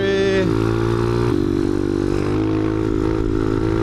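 Motorcycle engine revving hard and loud through a wheelie, a steady roar with pitch shifts as the rider changes throttle, with a voice talking briefly over it.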